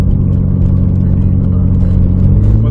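Manual-transmission car engine running while the driver clutches and shifts into second gear, a loud steady close rumble with slight rising revs at the end, no talking.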